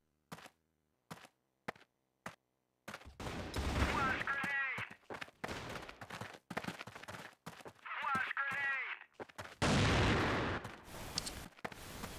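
Gunfire rattles through a CrossFire competitive match, starting with sparse single shots and building into dense automatic bursts, loud and close, with a commentator's voice speaking over parts of it.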